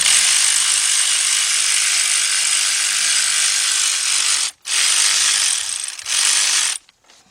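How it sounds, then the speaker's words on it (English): Cordless 1/4-inch ratchet with a 3/8 reducer turning a bolt during a Ford Fiesta head gasket and timing belt job, a loud continuous buzzing whir broken by two brief stops before cutting off. "I got my reducer, 3/8 to a 1/4-inch, so I can use my cordless ratchet."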